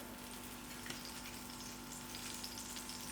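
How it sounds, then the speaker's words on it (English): Olive oil added to an already oiled hot pot, giving a steady, soft sizzle and crackle that carries on evenly with a faint hum behind it. "I'm just going to add another glug of olive oil."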